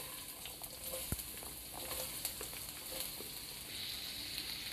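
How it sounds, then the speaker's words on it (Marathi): Chopped onion frying in about a spoonful of oil in an iron pan, giving a steady close sizzle and crackle with a few sharp pops throughout. "मी कांदा थोडं तेल टाकून परतून घेते।"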